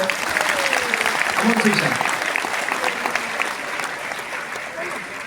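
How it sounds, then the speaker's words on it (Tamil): A big round of applause from an audience at an award ceremony where a young girl receives a medal and trophy, continuous clapping that gradually fades, with a voice briefly heard over it. "அவங்களுக்கு ஒரு பெரிய கைத்தட்டலோட"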